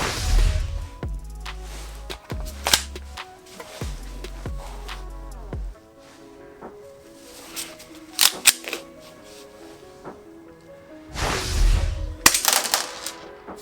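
A silver Secutor Ludus XI CO2 airsoft pistol fires BBs in a handful of sharp, irregularly spaced pops and mechanical clacks, loud and close, with quieter handling clicks between shots.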